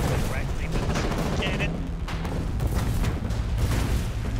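Gunfire in the war game Foxhole crackles in dense, overlapping bursts and booms that run steadily throughout, with voices talking over the shooting.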